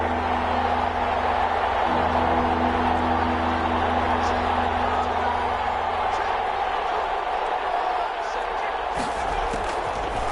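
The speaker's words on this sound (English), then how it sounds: "the crowd getting into it as we come up on a big 3rd down" Stadium crowd noise in a football video game, a broad continuous roar rising ahead of a big third down, steady and loud with no clear voices on top.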